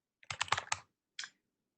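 Quiet computer keyboard typing: a quick burst of five or six close key taps, a short pause, then a single final keystroke.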